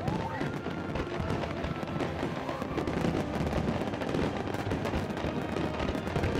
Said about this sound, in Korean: 이날 쏘아올린 폭죽만 30톤 분량에 2만여 개.